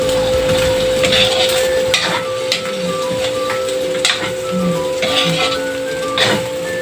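Sweet potato for lumpiang hubad frying in a pan, a steady sizzle with stirring and scraping clatter throughout, close and fairly loud, with no talk.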